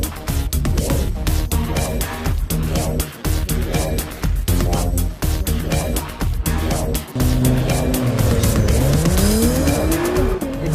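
A 2017 Acura NSX is driven hard around Sonoma Raceway, its engine revving loudly through repeated gear changes. Near the end its tires squeal in a rising, sustained screech as the car skids through a corner.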